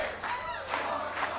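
A rowdy crowd at a Democratic National Committee dinner cheers and whoops in close, swelling bursts, with raised voices rising and falling over a short stretch.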